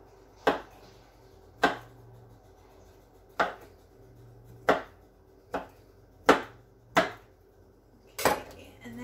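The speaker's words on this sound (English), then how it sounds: "So measure it out, and then we'll just give it a little bit of a chop." Broccoli is chopped with a knife on a cutting board, eight crisp, separate chops at an uneven, unhurried pace, close and clear against a quiet room.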